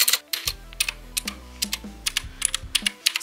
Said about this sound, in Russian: Но сегодня говорим о вот этой вот клавиатурке.